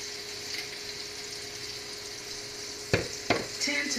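Prickly cactus sizzles in oil on an outdoor grill with a constant crackling hiss, broken by two sharp knocks near the end before a louder burst of frying.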